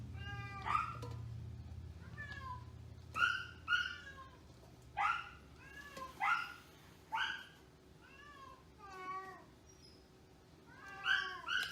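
A cat meows repeatedly at a veterinary clinic, about eight distinct rising and falling calls spread across the span, fairly close, with a low hum at the start.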